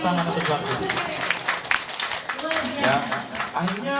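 A crowd at a health and investment seminar claps loudly and steadily for a man on stage. The dense, continuous applause fills the room, with voices mixed in under the clapping.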